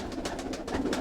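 A banded female pigeon coos close by in a few soft, throaty pulses, with no other sound.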